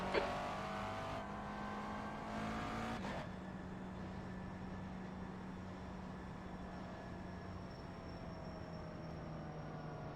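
McLaren MP4-12c GT3 race car in iRacing at Road Atlanta, its engine droning steadily at near-constant pitch after a brief shift early on, a continuous loud hum with no talk.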